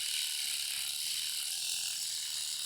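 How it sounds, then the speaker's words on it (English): Small hand-held sander buffing photo-etched metal parts on a model engine, a continuous close high-pitched whirring buzz with an even grinding texture, no talking. "See if we can buff that off with my little sander here."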